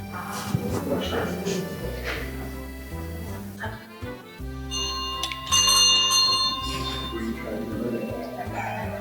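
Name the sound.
bell being rung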